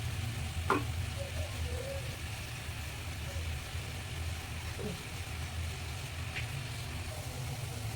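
White brinjal frying in a pan with onion masala, a steady close sizzle with faint stirring scrapes through the whole stretch.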